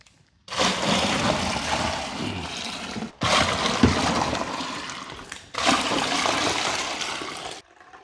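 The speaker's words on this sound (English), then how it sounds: "we've got to fill the fermenter up to 23 litres of water" Tap water runs into a home-brew beer fermenter being filled to 23 litres for a Coopers Pilsner, a loud, close, rushing gush in three long bursts separated by brief pauses.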